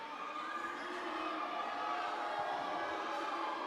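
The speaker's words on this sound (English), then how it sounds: "Hearing some boos." Basketball crowd at a Philippine league game jeering and booing a player at the free throw line, a steady, dense wash of voices from a packed arena with no single voice standing out.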